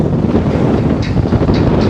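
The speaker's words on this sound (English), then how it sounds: "Overcast, blue skies, just super windy." Strong wind at the Coney Island boardwalk buffeting a microphone, a loud, steady low roar that fills the whole stretch with no voices.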